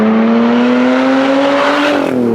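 A mid-engine Lotus Evora with its Toyota 2GR V6 revs up, a loud, close, steady engine tone that climbs in pitch, then drops near the end.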